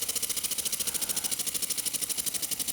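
A homemade compressed-air piston engine chugs in a fast, steady rhythm of evenly spaced hissing pulses, close and fairly quiet, fed from a small compressor.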